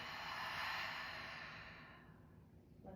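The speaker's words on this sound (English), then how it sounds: "inhaling through the nose and exhaling through the mouth" A long, breathy exhale through the mouth during a yoga breathing exercise, close and soft, swelling then fading into quiet, with no speech.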